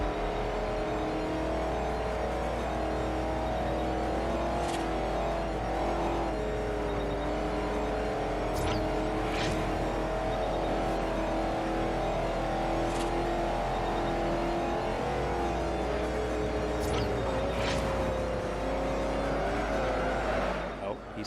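Race car engines roar and accelerate in the Forza Horizon racing game, a steady loud drone with rising revs and occasional sharp bursts, continuing under commentary throughout.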